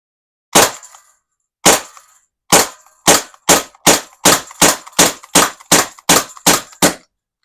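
Thirteen sharp shots from a Daisy Powerline 426 semi-auto air pistol with laser sight, fired alone in an uneven, quickening sequence: two spaced cracks, then a rapid run of evenly paced pops, loud and close.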